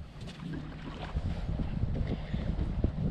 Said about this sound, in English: A little bit windy, which is good.